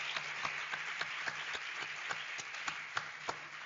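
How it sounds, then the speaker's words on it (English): Faint, distant clapping from an audience at a science academy graduation ceremony, a steady wash with individual claps standing out at a regular pace. "So let's have a big round of applause."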